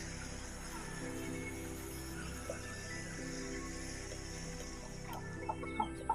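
Chickens on a farm cluck in short scattered bursts over a steady background hum, with a few sharper calls near the end.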